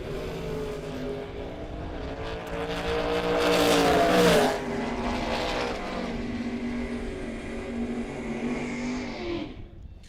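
Drag racing cars at a Ford versus Chevy event roar down the strip, a loud rising engine scream that peaks mid-run, then holds steady and fades as they pull away, with no talk over it.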